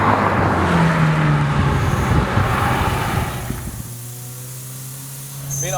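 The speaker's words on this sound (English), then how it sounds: "Five and a half thousand RPM redline, just breaking records, just really pushing the limits of what a 4-cylinder can rev to." The four-cylinder engine of a supercharged 2011 Toyota Tacoma revs hard toward its 5,500 RPM redline, giving a loud, rising strained note with supercharger whine, then easing off into a lower, quieter idle-like drone.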